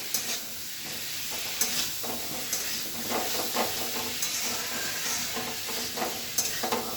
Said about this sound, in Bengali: মিট মশলা দিয়ে মিটটাকে একটু ভেজে নেবো এখন কষিয়ে নিয়ে।